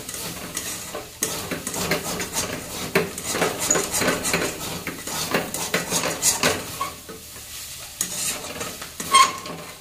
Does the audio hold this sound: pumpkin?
yes